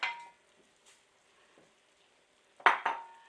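Cherry tomatoes and arugula land in a cooking pan, giving a soft sizzle at first, then quiet, then two sharp clattering bursts of pan and utensil near the end.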